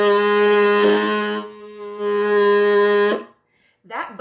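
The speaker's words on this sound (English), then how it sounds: "Now I'm going to turn on my amp and show you what some of the buttons do for my kazoo." An electric kazoo hummed through an amplifier, giving a loud, buzzy sustained tone in two long phrases, then a brief silence before a short burst of voice.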